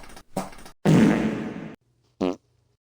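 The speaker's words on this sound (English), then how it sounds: "I haven't gotten the note sounds yet, so it's just farts" Fart sound effects stand in as placeholder piano notes: a few short, separate, close flatulent blurts in an uneven sequence, one long and loud, with silence between them and no talk.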